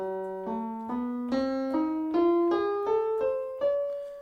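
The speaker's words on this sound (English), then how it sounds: "this scale what is named the lambda scale" A rising lambda scale of sustained, bright tones, about ten notes stepping upward in even succession, played alone and fairly loud with no voices.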